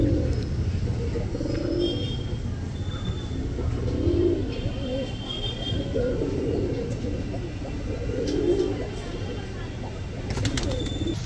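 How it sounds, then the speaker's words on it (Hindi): A breeding pair of black Patet pigeons coos in slow repeated rolling phrases, several bouts about two seconds apart, heard close with steady background noise. "बहुत खूबसूरत खूबसूरत कबूतर है"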